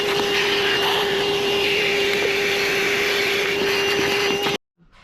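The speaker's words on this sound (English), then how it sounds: "Now's a good chance to give it a quick vacuum." A steady whining vacuum cleaner drones loudly inside a car's interior, holding an even roar with a sharp tonal hum before cutting off abruptly near the end.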